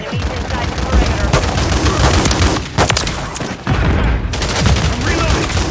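Dense, loud gunfire from dual akimbo shotguns in Modern Warfare 3 multiplayer, with rapid overlapping blasts over a continuous battle din and faint game voice callouts.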